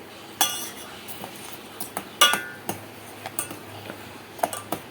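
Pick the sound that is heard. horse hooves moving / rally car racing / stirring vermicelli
stirring vermicelli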